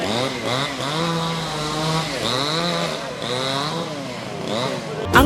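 Chainsaw cutting down a large silk cotton tree by a roadside bridge, its engine revving up and down in repeated surges as the blade bites, loud and close.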